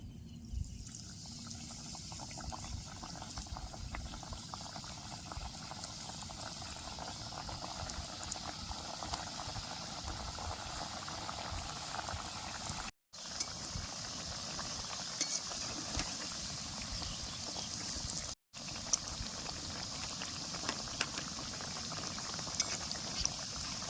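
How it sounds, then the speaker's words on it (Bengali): Khejuria sweets deep-fry in hot oil in a village kitchen, a continuous close bubbling and crackling that holds steady and even throughout, with no voices. "এই তেলের মধ্যে আমি একে একে খেজুরিয়াগুলো দিয়ে দেবো"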